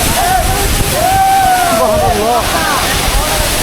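Rushing, broadband roar of Baghaihat waterfall in Sajek Valley, constant and close, with voices calling out over the flowing water.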